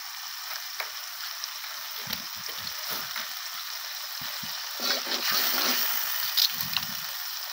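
Spice paste frying in a pan, a continuous close sizzle with intermittent stirring scrapes and soft squishy bursts as the paste is worked.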